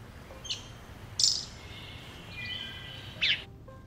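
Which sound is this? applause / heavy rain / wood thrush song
wood thrush song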